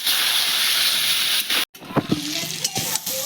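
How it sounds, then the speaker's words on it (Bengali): Spices and potatoes sizzle steadily in a hot pan as a little water is added, then the frying breaks into sputtering pops and stirring scrapes, close and loud with no talk. "আর একটু জল দিয়ে আমি মশলাটা আলুর সঙ্গে ভালো করে কষিয়ে দেবো।"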